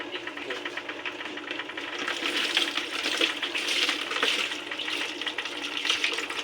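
Water washing mud off crabs, a continuous rushing, splashing stream with fluctuating texture and rising and falling intensity, close and fairly loud, with no speech.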